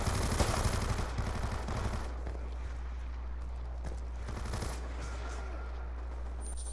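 Rapid automatic fire from a Dragon Fire drone's machine gun in Black Ops 2, a loud dense burst for about two seconds, followed by quieter scattered shots over steady game noise.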